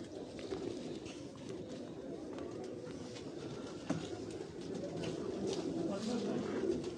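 Bengali breed pigeons, bought from Dubai, coo on a rooftop in Wazirabad amid steady outdoor background noise, with soft repeated calls rising slightly toward the end.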